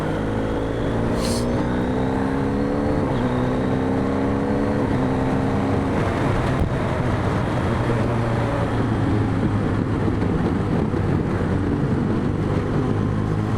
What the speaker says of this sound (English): Lorry coming.